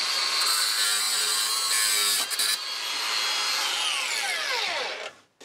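Loud, continuous grinding cut through four jigsaw blades clamped in a vise, with a brief interruption midway and a falling whine as the tool winds down.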